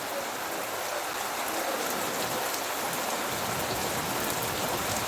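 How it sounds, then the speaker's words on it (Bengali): Heavy rain pours down steadily in a dense, continuous hiss of drops on surfaces, loud and unbroken for the whole stretch with no voices over it. "প্রচুর জোরে হচ্ছে বৃষ্টিটা।"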